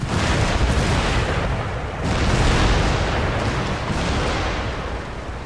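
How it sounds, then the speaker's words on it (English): Cannon in Empire Total War batter a target in a continuous loud barrage, overlapping booms and rumbling blasts that swell around the middle, with no talk over them. "I'm gonna have to stop the cannon fire soon"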